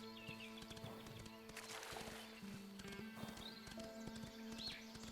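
Horse hooves clip-clop in a quick galloping rhythm in the video game Windstorm, steady and close throughout, with a brief whinny, faint bird calls and game music underneath.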